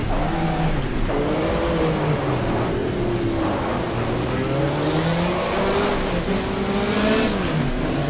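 Race car engine in the racing sim GTR2 Power and Glory, a 1987 WTCC touring car at Fuji Speedway, revving loudly and steadily with pitch rising and falling through gear changes, no voices.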